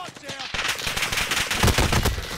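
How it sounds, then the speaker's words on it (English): Gunfire in the video game Warzone Caldera, a dense stretch of rapid automatic shots, loud and continuous, with a voice briefly under it. "Oh, they're shooting from far away?"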